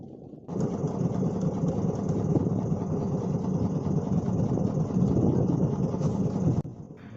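A fishing boat's engine runs steadily while heading back to shore at sea, starting abruptly, holding a constant low drone with wind for about six seconds, then cutting off.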